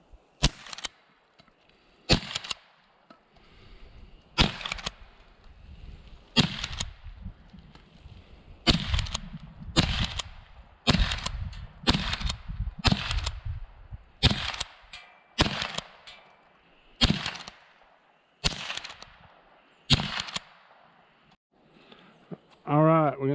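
Lever-action Winchester Model 94/22 rifle fired at bean cans outdoors: about a dozen sharp, loud shots spaced a second or two apart, with quiet gaps and soft ambient noise between reports.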